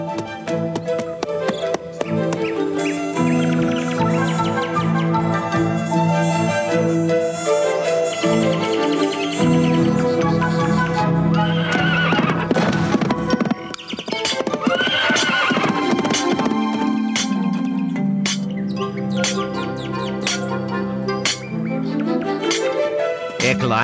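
Horses neigh and whinny over the rhythmic clip-clop of hooves, mixed with a dense, continuous layer of musical tones throughout.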